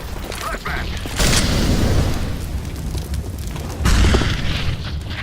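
A flashbang grenade goes off in a CS:GO match with two loud, broad bangs, the second near the four-second mark, over steady game noise and background battle sounds.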